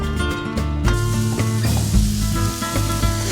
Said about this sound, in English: So I've cooked this beautiful fresh ground pork. It's getting some brown on it now